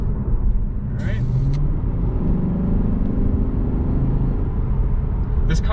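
A 2021 Lexus RC F Fuji drives on the road with a steady low engine and road rumble throughout, while a person talks over it from inside the cabin.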